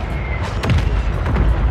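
A mortar strike in the video game Warzone lands as a loud, close boom with rumbling low-end debris, followed by a second blast moments later.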